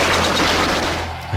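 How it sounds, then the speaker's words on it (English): Burst of automatic gunfire during an attack in Northern Ireland, dense crackling rounds merging into a loud, sustained roar close by, briefly fading toward the end. "There's an explosion, and almost at the same time you can hear automatic gunfire."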